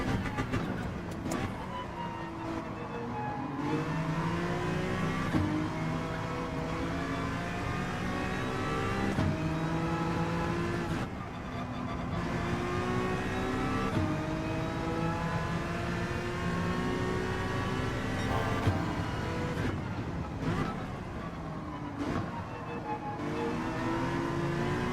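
A race car engine in Gran Turismo 7 with twitchy throttle response, revving and shifting continuously, pitch climbing through the gears and dropping at each change, loud and sustained throughout.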